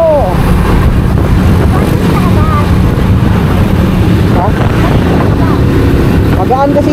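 Steady, loud wind buffeting the microphone at a campsite by a river and the sea, a constant rushing roar with people talking underneath throughout.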